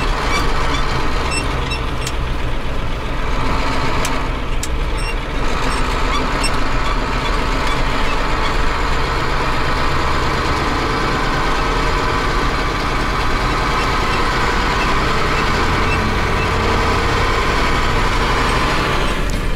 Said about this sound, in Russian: На КамАЗе звук мотора, который, конечно же, никогда ни с чем не сравнится.